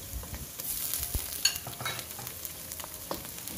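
Ginger garlic paste sautéing with capsicum in a pan, a steady close sizzle with scattered stirring scrapes and small crackles throughout.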